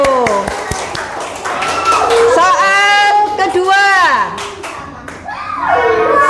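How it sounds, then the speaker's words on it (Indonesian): Schoolchildren in an Indonesian classroom clap for a classmate who answered correctly, a burst of scattered hand claps mixed with excited young voices calling out and chattering throughout. "Tepuk tangan untuk Asifa."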